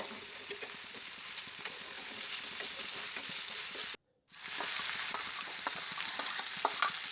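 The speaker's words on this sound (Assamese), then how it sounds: "ভাজি লৈছোঁ" Onion, tomato and chili frying in a pan give a steady, close hiss of sizzling with faint scrapes of stirring. A brief silent gap comes midway before the frying noise resumes.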